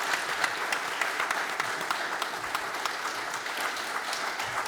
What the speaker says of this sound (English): let's give a round of applause to these three gentlemen